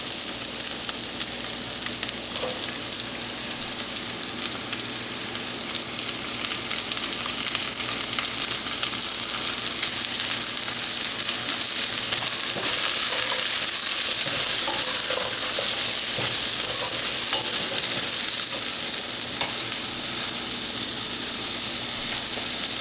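Butternut squash with onions and garlic frying in a pan, a steady dense sizzle with faint crackles and stirring scrapes throughout.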